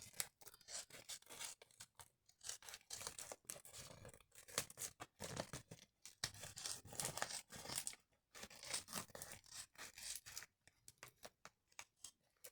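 Scissors trim an old bubble-padded envelope, producing a steady run of close, crisp snips mixed with plastic crinkling and rustling, with no voices.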